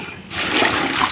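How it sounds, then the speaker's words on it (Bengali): Pumpkin leaf greens being washed by hand in water, a brief close splash and slosh lasting about a second. "শাক কটা ধুয়ে নিতেছি"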